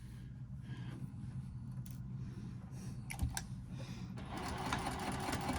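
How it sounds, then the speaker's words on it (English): A sewing machine stitches a double-pocket wristlet clutch with a steady close mechanical hum and clicking, with a brief pause and back-stitch, then running on more loudly toward the end. "I'm going to go right up to the pin and back stitch"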